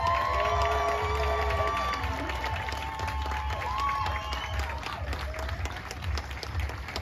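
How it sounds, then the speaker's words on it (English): Audience at a campaign evening in El Monte, California, applauding and cheering, with whoops and scattered shouts over continuous clapping that slowly tapers. "let's give it up, a nice warm round of applause for Claudia de la Cruz"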